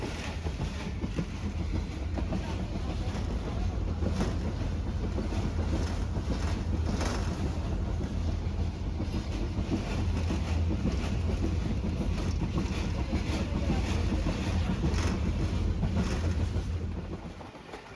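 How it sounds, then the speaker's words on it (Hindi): Pakistan Express train running at about 70 on a Punjab branch line between Wazirabad and Khanewal, a steady loud rumble of wheels on track with wind buffeting throughout, easing slightly at the very end. "ब्रांच लाइन पर बहुत ही खूबसूरत ट्रैक जोन के साथ भागती हुई ट्रेन 70 की स्पीड के साथ अभी चल रही है।"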